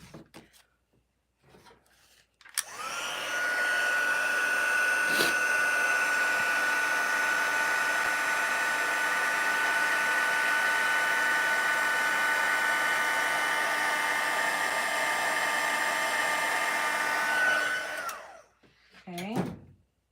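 Heat embossing tool blowing hot air over a stamped card, a loud steady whirring hiss that switches on abruptly, runs continuously for about fifteen seconds, then cuts off.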